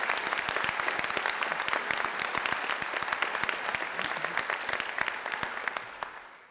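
Crowd applause for staff and students at a career and technical center dedication: a full, dense round of clapping with sharp individual claps poking through, holding steady before tapering off at the end.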